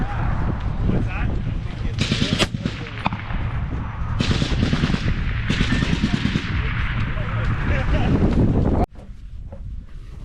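Suppressed 6.5 Creedmoor rifle shots ring out in a loud, windy outdoor setting, with sharp reports standing out among steady wind buffeting and people talking nearby.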